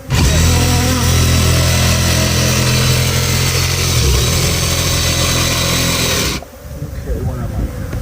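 A loud Ridgid power tool whines steadily for several seconds, then cuts off abruptly, leaving quieter room noise.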